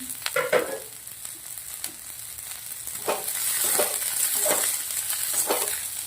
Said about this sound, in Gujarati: થોડી વાર આને શાકભાજીને સોતે કરી દેવાના છે